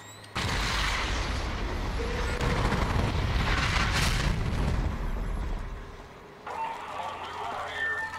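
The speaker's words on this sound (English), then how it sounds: "let's go ahead and let the fireworks commence" Fireworks going off in the video game Rage, a broad roaring burst of crackling blasts that swells and fades over several seconds, then a quieter hiss, with some talking.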